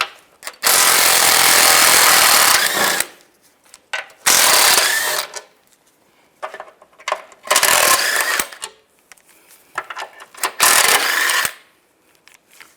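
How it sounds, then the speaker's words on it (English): A ratchet with a 15mm socket backing out bolts from a panel on a 2007-13 Chevy Avalanche, rapid clicking bursts of a few seconds each, four separate runs with quiet pauses between, close up. "take these 4 bolts out. Use a 15mm socket."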